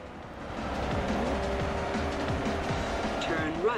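Ford Mustang driven in the Forza Horizon racing game, engine note steady throughout with tire squeal rising over it, while a voice talks over the gameplay.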